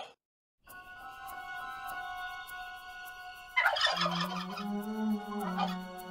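Cartoon turkeys gobble loudly after a brief silence, first a sustained tonal call, then a burst of rapid warbling gobbles that trail into lower, drawn-out gobbling sounds.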